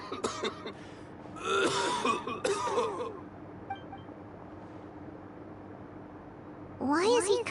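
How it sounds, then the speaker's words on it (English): A male character in Genshin Impact coughs in a fit of harsh, bursting coughs and throaty hacks, close and fairly loud, with game speech around them and a quiet ambient hum between bursts. "Why is he coughing so much?"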